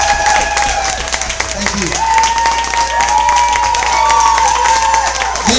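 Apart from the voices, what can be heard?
audience applause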